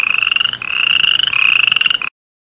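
A toad gives a loud, close, continuous rattling trill for about two seconds, with brief breaks before it stops.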